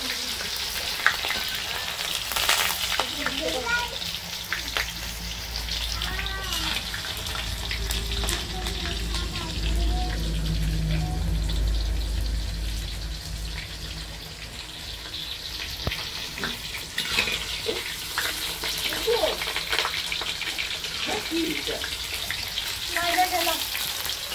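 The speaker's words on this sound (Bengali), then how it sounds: "তেলের মধ্যে দিয়ে দিচ্ছে শুকনো লঙ্কা, পেঁয়াজ" Dried red chillies and onions fry in hot oil for a home-cooked chicken biryani, giving a steady, close sizzle with occasional stirring and scraping throughout.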